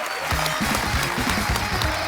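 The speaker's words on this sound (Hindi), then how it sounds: "एक बार जोरदार तालियां हो जाए वडाली ब्रदर्स के लिए।" A TV comedy show studio audience applauds the Wadali Brothers with loud, steady clapping, with a voice briefly audible beneath it.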